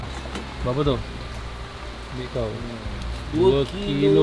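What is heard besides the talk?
rain falling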